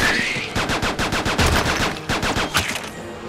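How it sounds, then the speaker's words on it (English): Rapid triple-shot gunfire from the Xbox 360 shooter Attack Of The Movies 3D: loud, dense bursts of sharp cracks repeat in quick rhythm throughout, close and continuous with no talking. "Triple shot."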